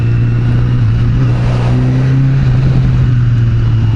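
Honda CBR 1000RR SP sport motorcycle engine running close in snowy weather, a loud steady low drone with a slight rise in pitch midway and no speech.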